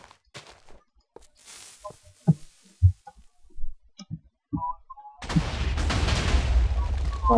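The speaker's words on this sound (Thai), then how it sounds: "งงเลยนะเนี่ยทำไมมันระเบิดเล่นเลยนะ" Explosion in the Minecraft video game: a loud sustained blast of noise erupts and rumbles on to the end, preceded by scattered short clicks and thumps.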